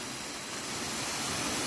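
Marleshwar waterfall roars as a dense, steady rush of falling water, loud and continuous with no voices.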